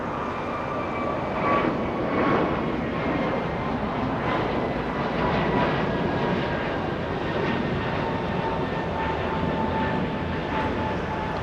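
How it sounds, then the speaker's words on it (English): An Airbus A321neo airliner departs runway 25 right at Los Angeles International Airport, its jet engines producing a steady, loud roar that holds constant with a faint rising whine, no speech. "American 1268 heading to Miami, Florida. Airbus A321neo using 25 right for departure."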